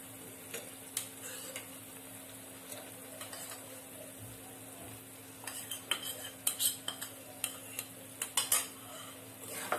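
A spoon stirs fried eggs into simmering masala for Indian egg curry over low heat, quiet at first, then a run of sharp metallic scrapes and taps against the pan that grows busier toward the end, with no talking.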